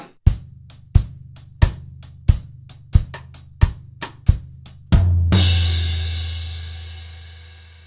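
A drum kit plays bars 13 and 14 of a Trinity College London Grade 4 piece in a steady groove of kick and cross-stick hits, ending on loud push-note crashes that ring and fade.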